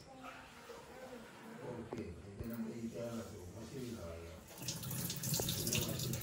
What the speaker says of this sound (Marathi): जोपर्यंत स्वच्छ पाणी येत नाही तोपर्यंत स्वच्छ धुवत राहायचे आपण